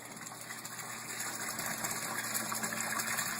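Water from the sump of a PVC aquaponics system pours steadily into the fish tank, a constant rushing splash with a low pump hum underneath, close and unbroken.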